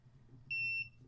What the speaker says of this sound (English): Oh, and there's the timer